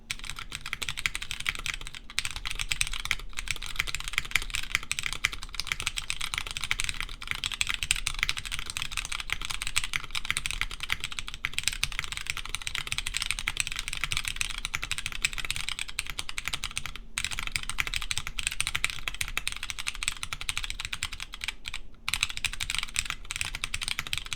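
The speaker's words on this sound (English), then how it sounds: "these are MX Browns. This is plateless though" Continuous fast typing on a plateless mechanical keyboard fitted with MX Brown switches and DCS keycaps, a dense, steady clatter of keystrokes close up with no voices.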